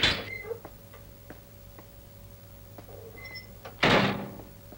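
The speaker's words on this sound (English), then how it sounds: "Open the door." A door opens with a short, loud broadband rush near the end of a quiet indoor scene in an action film, preceded by faint scattered clicks over a low steady hum.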